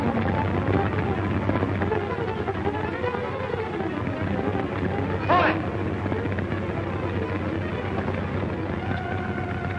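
An aircraft engine drones in a 1939 film serial, a loud, constant, rumbling roar that fills the whole stretch, with a brief sharper burst midway and faint voices in the mix.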